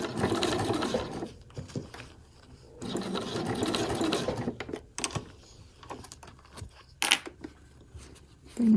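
A sewing machine stitches a fabric travel wallet, running in long steady bursts with brief stops and restarts, close and clear, with a sharp clack near the end.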